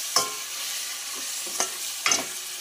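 Vegetables for sambar fry in a pan, with a steady soft sizzle throughout and three short scraping stirs of a spoon, close and moderately loud, no voices.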